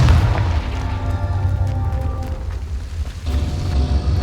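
Confringo explosive spell fired in the Hogwarts Legacy video game, a heavy booming blast with a deep rumbling low end that swells, dips briefly, then bursts again, loud and continuous across the moment.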